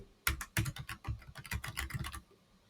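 Fast typing on a computer keyboard, a quick burst of about a dozen close, crisp key clicks over two seconds before stopping, quiet and alone.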